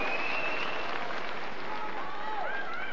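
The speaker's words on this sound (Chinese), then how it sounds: "让我们再一次把祝贺的掌声送给我们的小磊" Audience applause rings out at a martial arts league match, a continuous wash of clapping from the crowd with whistles and voices cutting through on top.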